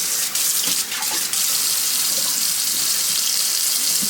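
Water runs steadily from a repaired Moen kitchen faucet into a sink, a continuous bright hiss close by with brief dips in flow.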